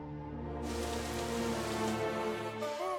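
Steady rain falls and patters on surfaces in a dense, even wash with no voices.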